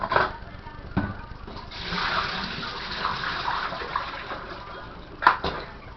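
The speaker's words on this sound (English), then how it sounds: "Bring them over here, and drain them out." Water from a pot of pork chops pours off and drains in a short gushing splash, with a sharp clatter near the start and a brief knock near the end, close and moderately loud.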